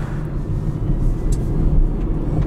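An electric car on a race track, heard from inside as a steady low road and motor rumble with a faint high whine, running evenly without gear changes.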